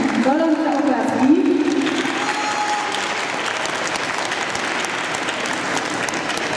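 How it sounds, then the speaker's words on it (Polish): Applause from an audience at a children's dance club show in a shopping centre, a steady dense clapping wash that continues throughout, with some voices or music fading out near the start. "Gorące oklaski."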